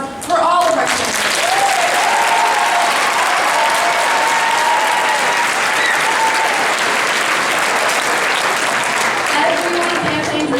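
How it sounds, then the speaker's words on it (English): A closing-day crowd gives a big round of applause for candidates, dense loud clapping that starts abruptly and holds steady for about ten seconds, with faint cheers and voices mixed in. "let's give a big round of applause for all of our candidates."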